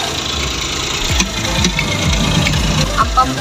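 A sporty 4x4 wagon's engine idles nearby with a steady low rumble and rhythmic knocking, a few clicks and faint background voices over it.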